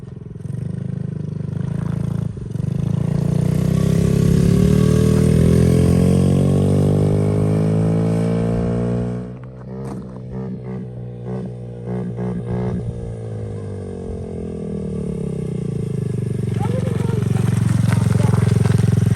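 A Honda XR50 mini dirt bike revs nearby as it rides through dirt and down into a small ditch, with its engine note rising and falling and some clatter in the middle.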